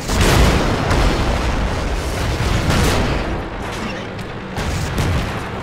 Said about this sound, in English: there's a Panzer III over there, taking a shot